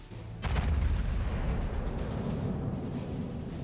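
The Yamato battleship's heavy guns fire in World of Warships, one deep booming salvo that hits suddenly and rolls into a long low rumble with no talk.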